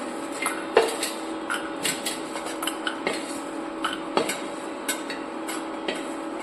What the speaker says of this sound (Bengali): প্রথমে কড়াতে সর্ষের তেল দিলাম মুড়িটা ভালো করে ভেজে নেব